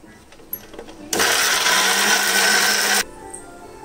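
A mixer grinder jar whirs steadily for about two seconds as it grinds gooseberry chutney ingredients, loud and close, starting and stopping abruptly, with brief faint clicks before and after and no talking over it.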